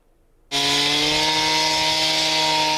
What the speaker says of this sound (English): Sawing into bricks as construction crews are putting the final touches on these bollards and fitting bricks around these metal posts.